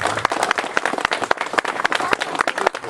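Clapping for the winners at a carp fishing competition, the Jarosławki Cup 2015: brisk, uneven handclaps from a modest group, close and distinct, lasting about three seconds.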